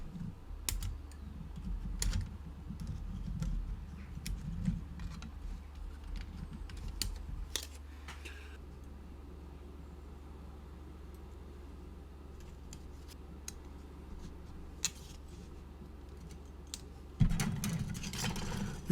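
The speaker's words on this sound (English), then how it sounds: "What I want to do now is just cut out the fuselage halves" Plastic fuselage halves of an Airfix 1/48 Westland Lysander kit being cut from their sprue: sharp, scattered clicks and snips over a steady low background hum, alone without talk.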